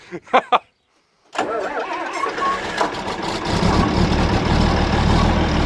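A John Deere tractor engine cranks in a few short bursts, falls silent, then catches and settles into a steady, loud idle that runs to the end without revving.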